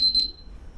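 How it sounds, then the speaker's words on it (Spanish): An electronic alarm beeping at the close of a programming lesson on Git: two short, shrill, steady tones in quick succession, close and clear, then a faint fading ring over low background hum. "por el momento esa alarma nos indica que el tiempo de este video ya se nos acabó"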